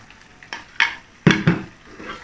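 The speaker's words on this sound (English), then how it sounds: "Now it's time to add the tofu to the pan." Tofu goes into a pan of crab meat sauce with a few soft clatters and scraping knocks, short irregular contacts, close but fairly quiet with a faint sizzle beneath.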